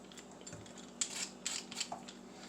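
Cassava is peeled by hand with a peeler or knife in a quiet kitchen, giving a few soft, quick scraping strokes, faint and close, with no talking.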